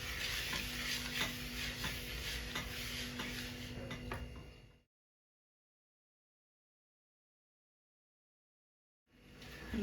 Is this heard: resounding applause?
no